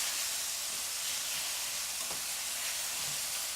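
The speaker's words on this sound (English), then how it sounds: "I'm going to saute up these onions." Onions sautéing in a hot pan, a steady broadband sizzle holding at an even level throughout with no other sound and no talk.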